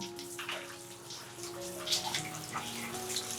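Tap water runs steadily into a basin, a broadband splashing wash that holds fairly constant throughout, with some faint background tones and no talk.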